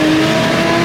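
A Toyota Supra's engine under full throttle, a loud, brief rising tone close to the microphone.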